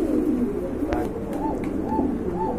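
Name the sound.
pigeons cooing at a pigeon market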